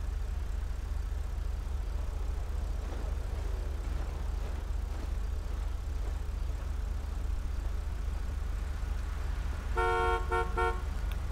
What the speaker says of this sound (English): even though he honks the horn